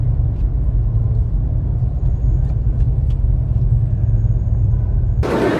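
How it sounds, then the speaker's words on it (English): A vehicle towing an Airstream trailer pulls into a campground near Mount Rushmore, giving a steady low engine rumble that holds close and continuous before a sudden louder noise at the end. "Someone with an Airstream coming in."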